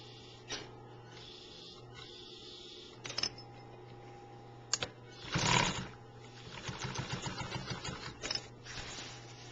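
A sewing machine stitches a torn horse blanket, running forwards and in reverse in short bursts: brief mechanical clatters, a louder whirring run near the middle, then a longer rhythmic stitching stretch, fairly faint overall against a steady hum.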